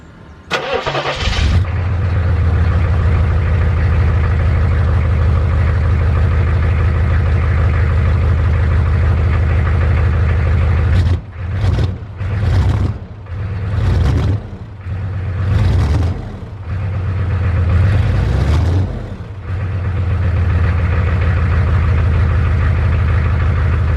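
A 1995 Chevrolet K2500 Suburban with a 6.5L diesel engine and an exhaust leak starts up and settles into a loud, steady low-pitched idle, with brief revs in the middle before returning to a rumbling idle.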